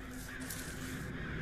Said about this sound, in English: Oh, listen to the crows.